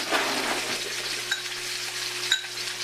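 A spoon tossing a thick salmon salad with coarsely chopped bacon and mustard dressing, giving a soft continuous scraping, clicking churn with faint tapping against the bowl, close and steady, with a low background hum and no talk.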